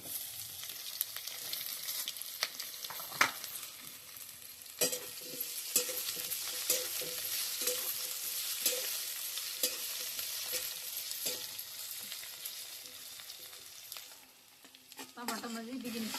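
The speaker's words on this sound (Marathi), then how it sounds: "आता बटाटा भाजून घेऊ." Potatoes roast and sizzle in a hot pan, a steady frying hiss broken by repeated stirring scrapes and clatter, close and continuous with no talk.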